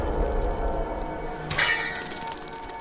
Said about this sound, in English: so that bell sound was me picking up their skulls.